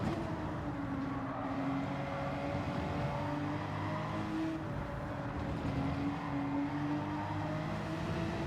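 A Ferrari race car in a Gran Turismo 7 endurance race at Circuit de Spa-Francorchamps, its engine droning at steady high revs with slowly shifting tone, mid-distance and continuous throughout.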